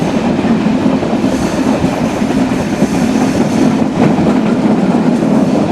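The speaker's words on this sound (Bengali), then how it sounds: "ট্রেন প্রবেশ করছে টাঙ্গাইল রেলওয়ে স্টেশন।" The Banalata Express, a non-stop train, rumbles loudly and steadily close by entering Tangail railway station, wheels clattering on the rails with a continuous low roar and no voices.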